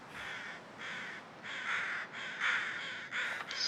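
Crows caw repeatedly in The Long Dark, a series of harsh calls arriving in steady bursts roughly every half second, moderately loud and growing slightly stronger toward the end, with no talking.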